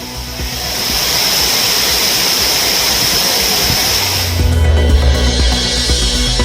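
Thirparappu waterfall in flood, a steady, loud broadband roar of heavy falling water with no voices, a deeper low rumble joining in toward the end.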